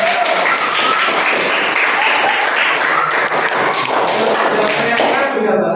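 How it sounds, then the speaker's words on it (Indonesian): Students applaud together in a classroom with brisk, dense clapping and some thumps. The applause carries on steadily throughout, and a voice is heard speaking over it. "Tepuk tangan buat kalian semuanya."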